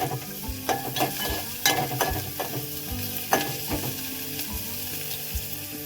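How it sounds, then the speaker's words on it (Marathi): Onions frying in a pan as the base for an oyster curry, a steady sizzle with repeated scraping stirs every second or so and a looping background tune, no voices. "आणि आता आपण टाकणार हो कांदो कांदो जरा थोडस लालसर होऊ दे"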